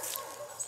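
Dogs bark and yip outdoors on a rural walk, a few short high-pitched yelps heard faintly at a distance, brief and scattered with no talking.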